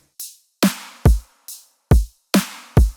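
An electronic drum loop at 140 BPM with a kick drum, three layered snares and a hi-hat plays alone, its punchy, evenly spaced hits alternating between low thumps and bright cracks.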